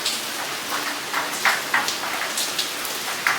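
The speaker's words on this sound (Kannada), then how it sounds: "ಹೊರಗಡೆ ನೋಡಿ ಸಿಕ್ಕಾಪಟ್ಟಿ ಮಳೆ ಬರ್ತಾ ಇದೆ" Heavy rain falls outdoors in a dense, steady hiss, with sharper splashes and drips landing on nearby surfaces at irregular moments.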